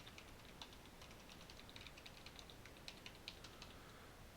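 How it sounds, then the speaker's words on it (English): Soft, rapid key clicks on a computer keyboard as a command is typed, faint and close, in an irregular patter without speech. "So we'll just type switch port mode access."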